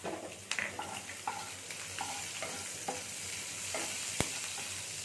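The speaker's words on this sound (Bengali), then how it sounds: "এই দুটো এখানে ভাজা হচ্ছে" Cumin seeds and chopped green chillies fry in a little oil in a wok, producing a soft, even sizzle punctuated by light clicks and scrapes of stirring and one sharp tap near the end.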